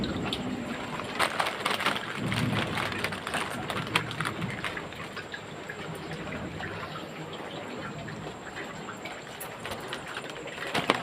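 Heavy rain pouring down over a flooded shop and home, a dense continuous roar of drops drumming on surfaces, close and steady throughout with no thunder standing out.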